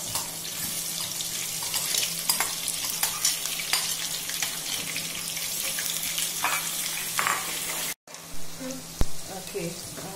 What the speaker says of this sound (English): The onions are slightly fried now.